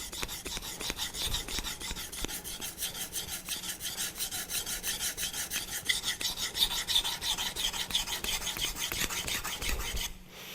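A convex knife is drawn over a 400-grit Naniwa diamond whetstone in steady, rhythmic rasping strokes, close and loud, with a brief clatter at the end.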